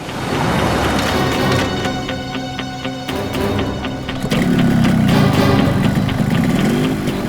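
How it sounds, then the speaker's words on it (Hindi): A motorbike engine runs steadily and loudly throughout, growing a bit louder and rougher in its second half. A busy outdoor scene with dense background sound sits under the engine, and no one speaks. "बाइक स्टार्ट हो गई"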